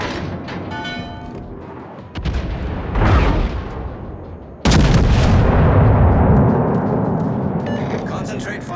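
Naval artillery in World of Warships: heavy battleship guns fire in loud booming salvos, one hitting around two seconds and a bigger, sustained roar from about five seconds, with a game voice call heard near the start.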